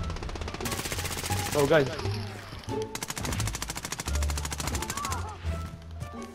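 Rapid automatic gunfire in the video game Call of Duty Warzone, long loud bursts of tightly spaced shots with brief pauses between them, while a player briefly speaks over the shooting.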